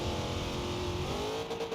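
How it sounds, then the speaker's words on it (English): Steady, loud engine revving from a car in the racing game Forza Horizon 2, said to borrow a Honda Civic engine sound for V6 cars; continuous drone with a rising pitch toward the end, no talking. "They reuse engine sounds from the Honda Civic in almost every car with a V6"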